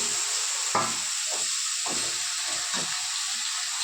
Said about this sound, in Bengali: এই যে কালো জিরে ফোড়ন দিচ্ছি, সাদা জিরে ফোড়ন দিচ্ছি